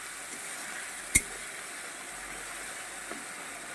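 Vegetables sauté with turmeric in a pan, a faint, even sizzle and hiss that holds steady, broken once by a single sharp tap of a utensil.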